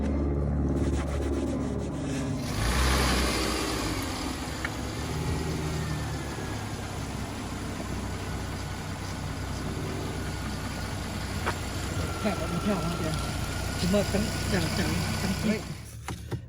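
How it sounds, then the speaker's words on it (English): A car engine cranks and catches after a couple of seconds of quiet, then settles into a steady, close idle that runs on with a faint hum. "go ahead and start up the car and see"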